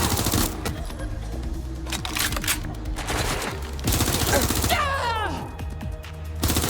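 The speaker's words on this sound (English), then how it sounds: "I'm taking fire!" Rapid automatic gunfire in the Watch Dogs Legion video game, loud overlapping bursts in a sustained firefight, with a short whistling sweep near the end.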